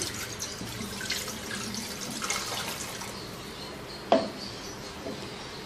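About two cups of water run into a pan of chicken to start a stock for pulao, a soft continuous trickle with a sudden splash near the end, heard close and fairly quiet.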